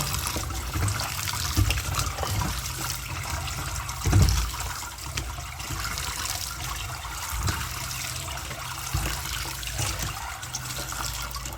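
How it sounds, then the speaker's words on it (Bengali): Boiled bottle gourd leaves are squeezed by hand in a kitchen, with water trickling and dribbling steadily out, rising into a brief splash near the middle before settling back to a thin trickle. "তো এটাকে আমি চিপে জলটা ফেলবো"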